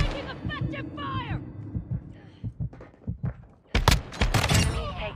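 A military shooter video game fires bursts of gunfire in short sharp cracks and a rapid volley, mixed with radio-style game voice lines and a player talking.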